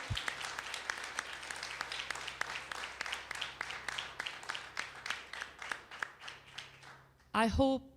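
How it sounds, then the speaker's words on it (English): A conference hall audience gives a sustained round of applause at the opening of a world tenants' union gathering, dense and steady over a low hum, ending as a voice speaks briefly at the close. "I want you all to thank him for the good work he has done for 9 years with a round of applause"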